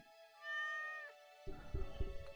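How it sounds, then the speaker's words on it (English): A pet cat gives one long, drawn-out meow, clear and fairly close, followed by a burst of clattering, knocking sounds. "That's our kitty cat."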